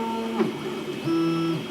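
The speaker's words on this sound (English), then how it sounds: "Got my 3D printer going." A 3D printer running in a cluttered home workshop while printing a new spindle mount, giving off steady tonal stepper-motor whines that shift pitch between moves, close and alone with no talk.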